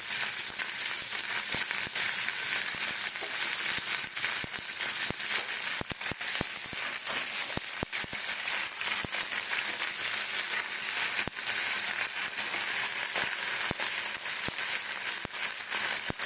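Chopped onion hits a hot pan already holding tomato while a chana dal dalna cooks, giving a steady, close, continuous sizzle with scattered sharp crackles and pops. No one speaks.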